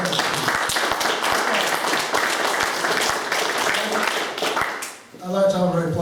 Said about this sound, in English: Can I just have a round of applause on these questions?